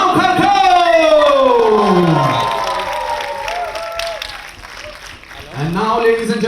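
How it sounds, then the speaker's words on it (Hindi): A crowd at a web-series trailer launch cheers and applauds, with loud whooping and shouting voices swooping over clapping, fading briefly before rising again. "जोरदार तालियां बजाइएगा"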